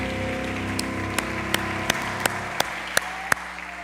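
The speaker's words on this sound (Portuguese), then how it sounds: "Vamos dar aplauso para Jesus, para o Romildo." A church congregation claps in unison, a run of sharp, evenly spaced collective claps building in loudness over a sustained bed of crowd noise and a low musical drone.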